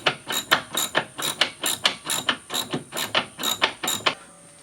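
Rapid clicking of a ratchet with a short extension and wobble adapter tightening a bolt on a Polaris Ranger rear bumper, about twenty crisp, evenly spaced close clicks in quick strokes.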